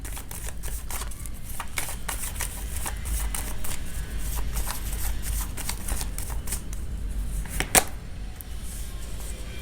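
Tarot cards shuffled by hand, a continuous fast riffle of papery flicks and slaps with one sharper snap near the end, close and steady with no talking.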